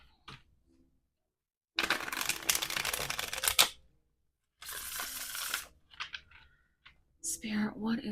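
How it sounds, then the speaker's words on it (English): A deck of tarot cards is shuffled in two long bursts of dense, papery riffling and rustling, close and fairly loud, with quiet handling clicks and a brief voice at the end. "Let's give it one more shuffle."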